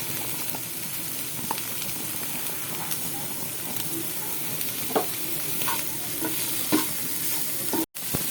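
Red capsicum and long-sliced onion stir-fried in a pan for restaurant-style dragon chicken, with a constant close sizzle and occasional light spatula taps and scrapes. No one speaks.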